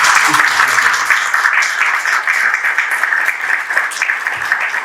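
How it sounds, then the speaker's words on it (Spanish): An audience claps steadily at a classic computing meetup after a talk ends, a dense, continuous wash of hands from start to finish with a few faint voices underneath. "un aplauso por favor"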